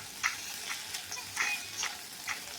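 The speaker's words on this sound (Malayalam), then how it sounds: "ഇതിലേക്ക് കോണും കൂടി ചേർത്ത് നന്നായി ഇളക്കി കൊടുക്കാം" Sweet corn being stirred into butter and softened garlic in a pan, giving a soft, low sizzle with several light scraping clicks from the spoon spaced across a couple of seconds, nearby and quiet.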